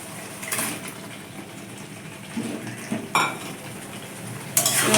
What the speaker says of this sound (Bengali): মশলাটা কষা হয়ে গেছে এবার আমি মাংসগুলো ছেড়ে দেবো